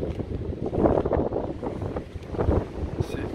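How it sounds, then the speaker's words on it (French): Sea waves wash noisily along the Almería coast in Spain, a steady broad roar with buffeting wind on the microphone, close and loud throughout. "c'est bruyant quand même les vagues"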